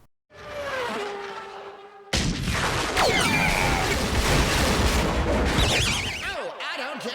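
Podracer engines in the Star Wars Episode 1 pod race, a loud, dense roar with whining engines sweeping past and sudden bursts, briefly quieter at first and then a sustained, near racket.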